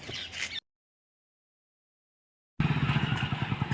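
A motorcycle engine runs close by with a steady pulsing throb, cut by a sudden stretch of total silence before the engine sound returns.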